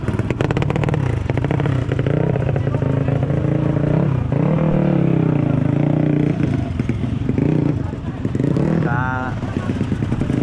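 A motorcycle engine revs and idles loudly close by on an off-road trail ride in Ungaran, with clattering and people talking over it throughout.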